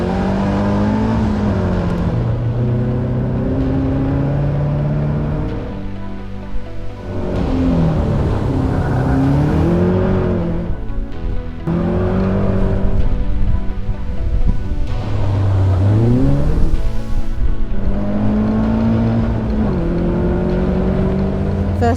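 Close, loud engine of a race car on its first timed run at an academy race, revving up and down through repeated gear shifts as it accelerates, with road and wind noise throughout.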